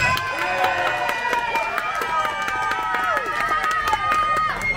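A beach-party crowd judging a Hawaiian shirt contest in Pennington Gap, Virginia, cheers and shouts for a contestant, a busy wash of voices and whoops with people talking over it throughout.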